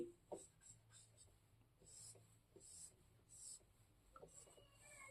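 Pen or pencil drawing a short line by hand on a palm-reading diagram, soft scratchy strokes in several brief bursts, close and quiet with no talking.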